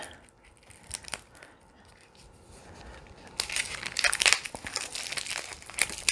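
Crinkling plastic packaging from a Focallure beauty box, quiet scattered crackles at first, then louder dense crumpling close to the microphone.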